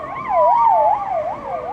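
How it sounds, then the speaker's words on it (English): An ambulance siren wails loudly and close in a rising and falling pattern as it moves through road traffic, with engine noise underneath and no voices. "we do have an ambulance that is coming down the road."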